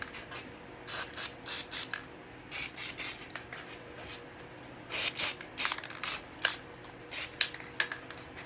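Satin clear enamel protective coating hisses from a spray can in short bursts, about a dozen sharp sprays in quick groups with brief gaps between them, close and fairly loud, with no talking.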